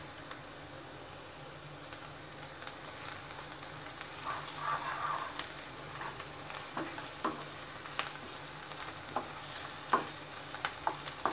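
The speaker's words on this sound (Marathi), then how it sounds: "आता आपण अद्रक लसणाची पेस्ट घालणार आहोत आणि व्यवस्थित मिक्स करून घेणार आहोत" Ginger-garlic paste sizzles as it is stirred into onions frying in a pan for stuffed brinjal, a steady hiss under scattered spatula scrapes and ticks that grow busier toward the end.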